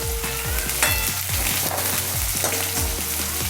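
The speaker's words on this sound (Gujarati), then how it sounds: "તો લસણ ગરમ થઈ ગયું છે તો હવે તેમાં ડુંગળી એડ કરીશું, જે ઝીણી સુધારેલી છે" Finely chopped onion sizzles loudly as it fries in hot garlic for a moong curry made with buttermilk, a steady dense crackle broken by occasional stirring scrapes.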